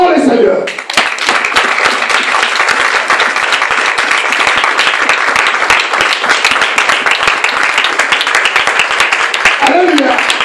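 A church congregation at a Sunday service breaks into loud, sustained applause and clapping that fills the room for about nine seconds. A voice is heard briefly at the start and again at the end.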